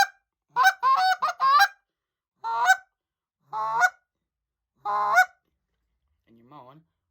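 A goose call blows a run of rapid honks, then several drawn-out moaning notes with pauses between, ending on a soft, low trailing note.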